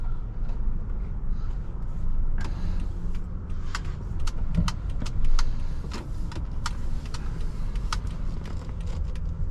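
A 2017 Honda Odyssey EX-L minivan engine idles steadily with a low rumble. Faint clicks and rattles appear now and then over the hum, and no one speaks.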